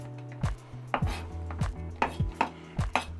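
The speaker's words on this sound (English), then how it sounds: "Carrots are chopped." A knife chops carrots into thin strips on a cutting board while preparing yakisoba, about eight sharp, evenly spaced knocks, close and clear with no talking.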